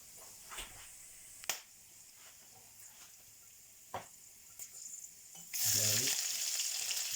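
Garlic frying in oil for chicken biryani, a quiet crackling sizzle broken by sharp clicks and taps, then a sudden louder burst of hissing near the end.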